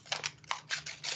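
Scissors cutting a paper shape into quarters: a quick series of five or six soft, close snips in a quiet room.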